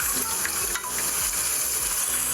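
Oil sizzles and crackles steadily in a pot while frying ingredients for Nigerian jollof rice, with occasional low scraping from stirring, close and continuous.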